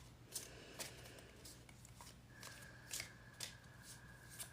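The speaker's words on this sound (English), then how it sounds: "you'll notice the shuffling I do, nice and easy" Cards are shuffled gently and steadily up close, soft riffling swishes repeating at an easy pace, with no talking.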